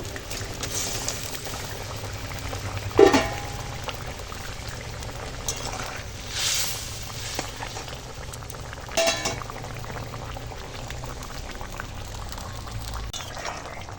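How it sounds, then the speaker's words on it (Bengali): Fish curry broth with tangra fish boils steadily in a pot, giving a continuous close bubbling hiss with a few louder pops and gurgles and no talking. "ঝোল ফুটে গেছে"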